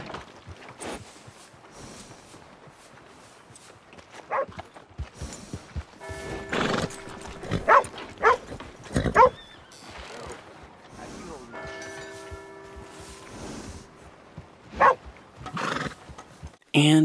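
A red roan Tennessee Walker horse at a stable in Red Dead Redemption 2 whinnies loudly several times while hooves clip-clop in irregular bursts, with a voice talking over parts of it.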